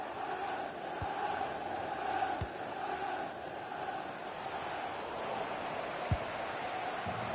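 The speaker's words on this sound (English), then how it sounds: "The crowd have gone crazy, and quite rightly so." A crowd roars steadily after a goal in a football video game, a broad wash of cheering that holds for several seconds with a few faint thumps.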